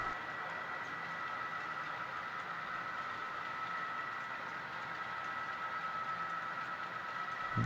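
An HO scale model train rolls along layout track over a bridge on a large club model railroad modeling Tehachapi, giving a steady, moderate running hum with a faint continuous rumble and no speech.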